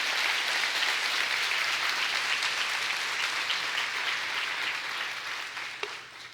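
A church congregation applauds in a dense, sustained round of clapping that fills the room. It stays steady for several seconds, then thins and fades near the end, with no speech over it.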